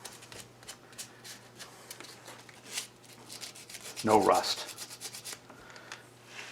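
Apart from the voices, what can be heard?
light sanding by hand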